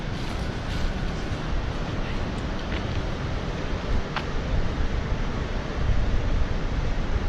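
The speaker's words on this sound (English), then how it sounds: "Can hear the river from here." Kings River rushing near Buckeye Flat campground in Sequoia and Kings Canyon, a steady broadband water roar heard from a campsite, continuous and moderately distant with faint wind.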